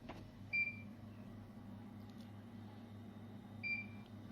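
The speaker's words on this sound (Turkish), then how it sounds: "Şu anda işte alarm devreye geçti." Two short electronic beeps from a Seg 4500 no-frost refrigerator's door alarm, one near the start and one near the end, over a low steady hum.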